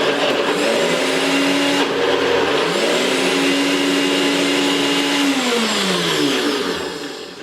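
A Nutribullet blender whirs loudly and steadily as it blends a thick smoothie, the motor pitch dipping and rising as the dense mix catches, then fading slightly at the end.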